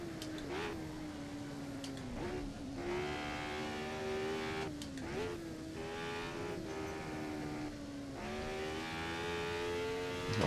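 Formula 1 car engine at Goodwood in a racing video game, a sustained high-pitched whine that rises and falls with brief dips at gear changes, continuous and steady throughout with no voices.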